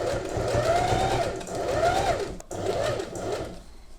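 A sewing machine stitches fabric for gathered ruffles, its motor whirring in three steady runs with short pauses between, close and clear with no talk over it.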